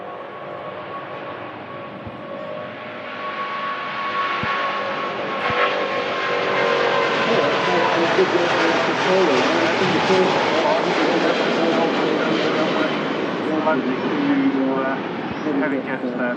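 An airliner departs Manchester Airport with a long, loud, roaring engine rumble that swells and holds steady, heard at a distance from the ground, with no talk over it.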